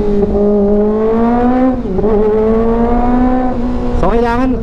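A 2023 Kawasaki ZX25R motorcycle engine revving hard while riding, a loud, sustained high-pitched four-cylinder wail that holds steady, dips briefly, then climbs sharply as the throttle opens near the end.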